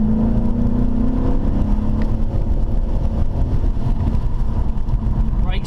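A Ford Mustang GT with a 5.0 V8 drones from inside the car on the move, its engine note climbing steadily as it accelerates over constant road and cabin noise.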